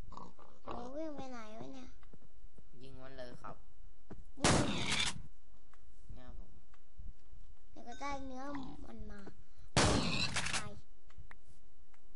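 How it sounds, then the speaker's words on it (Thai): Two loud, sharp gunshots from a gun mod in the Minecraft video game ring out between repeated pig oinks, with a voice speaking at times. "ลองยิงใส่หมูหน่อยครับ ต้องใช้ปืนนี้"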